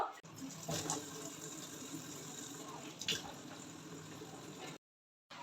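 Tap water runs and splashes steadily while a baby's face is washed, with a couple of louder splashes, then cuts off abruptly near the end; someone talks quietly over it.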